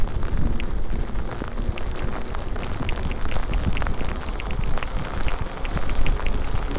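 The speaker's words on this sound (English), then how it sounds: "the rain is still coming down" Steady rain pours down around an ebike rider out on a road trip in poor weather, a dense continuous hiss of drops with occasional sharper patters, loud and close throughout.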